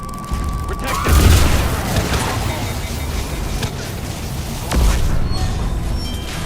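Gunfire and explosions in Mass Effect 3, with two deep booming blasts and scattered sharp shots over constant loud battle noise, close by, with voices shouting over the fighting.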